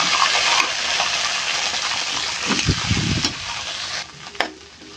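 Mixed vegetables dropped into a pan of burnt garlic and oil, a loud hiss and sizzle with clattering stirs, then settling into a quieter fry with a sharp scrape near the end.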